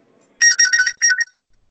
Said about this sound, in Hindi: बीच में फोन कॉल बहुत आ रहे हैं मेरे को एक्चुअली